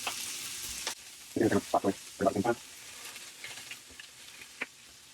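Whole yellowtail snapper sizzles on a hot grill right after being flipped, a steady crackling hiss broken by a few louder bursts of spitting near the start, with no talking.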